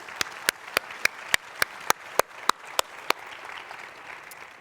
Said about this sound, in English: So please join me in a round of applause for Lyon.